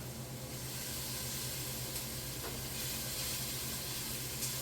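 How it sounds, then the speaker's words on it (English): Onion and garlic sautéing in a pot for pasta sauce: a constant soft hiss and sizzle, even and close, with no talk over it. "our onion and garlic is sauteed a little bit"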